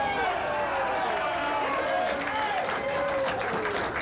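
A crowd at a candlepin bowling match cheers and applauds steadily, a dense wash of clapping and voices filling the hall continuously for several seconds.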